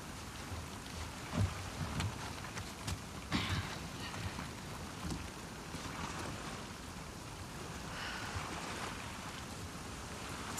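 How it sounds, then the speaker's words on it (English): Steady rain pouring in The Last of Us Part II, a dense, even hiss of drops spattering on surfaces nearby, with a few sharper splashes and no voices over it. "Let's get out of the rain."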